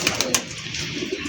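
Highflyer pigeons kept for breeding coo softly nearby, with a few sharp, brief sounds early on, then a low, rolling murmur of calls running alone.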